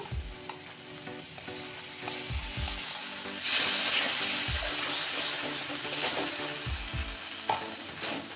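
Masala fries in a pan over low heat as whisked yogurt is added, bringing a sudden burst of hissing sizzle that settles into steady crackling, with low thumps of stirring throughout.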